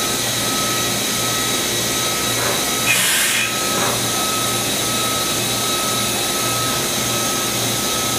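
A Kitamura HX300 horizontal machining center runs with its spindle at 2500, giving a steady, loud mechanical whine and hum, with a brief hissing burst in the middle of the run.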